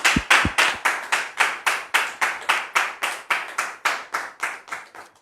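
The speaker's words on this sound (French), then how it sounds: "sous vos applaudissements, s'il vous plaît." Steady rhythmic clapping in unison from a studio audience, loud and close, about three claps per second with no talk over it.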